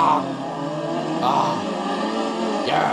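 A car drives along a highway in the racing video game Dirt 3, its engine droning steadily and rising in a couple of revving surges, loud and close throughout.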